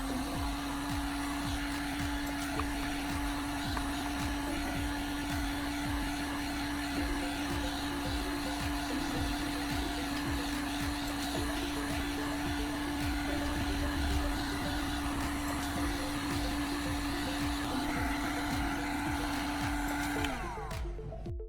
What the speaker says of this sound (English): To flatten this piece of PVC pipe, I'll use a heat gun.